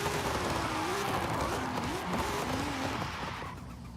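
Nova and Supra cars drifting in Open Drift: a revving engine drone with wavering pitch and tire squeal through the corners, steady and fairly loud before fading slightly at the end.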